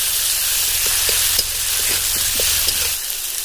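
Dry chili paste and chopped tomato sizzling in hot mustard oil, a loud, close, continuous hiss and crackle with faint stirring ticks running beneath it.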